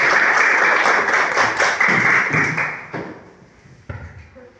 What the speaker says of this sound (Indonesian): Tepuk tangan untuk Romaide.